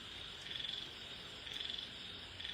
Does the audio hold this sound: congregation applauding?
no